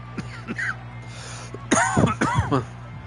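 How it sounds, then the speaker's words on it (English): Someone coughs from an allergy a few times, short harsh bursts near the mic during a broadcast of an NFL Colts at Miami game, with a steady background hum underneath. "Apologize for the coughing."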